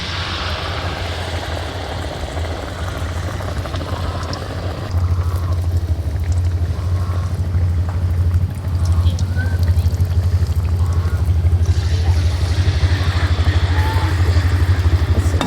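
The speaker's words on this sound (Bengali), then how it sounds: "এক এক করে আমি চপগুলো ভেজে নেব" Eggplant fritters deep-fry in hot oil with a loud, steady hissing sizzle that grows stronger partway through, with a voice faintly heard now and then.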